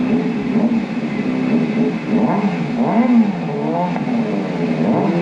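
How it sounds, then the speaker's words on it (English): A 2013 Kawasaki ZX-6R 636 stunt motorcycle engine revs up and down repeatedly, rising and falling in pitch in a steady, close, loud drone. "Their engines always sound good, don't they?"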